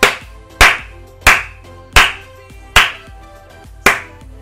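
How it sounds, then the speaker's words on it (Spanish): About six loud, evenly spaced claps ring out in a slow, steady rhythm in a football video game, PES 2018, each one sharp and echoing briefly before the next. "Venga, un aplauso."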